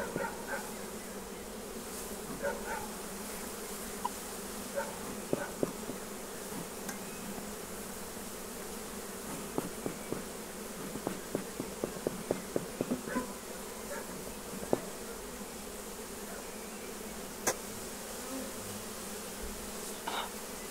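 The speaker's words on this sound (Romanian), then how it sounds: "E greu să înfunzi atâta albină în două corpuri" Honey bees buzz in a steady, dense drone around an open hive during a beekeeper's work, with scattered sharp taps and knocks of wooden frames and boxes close by.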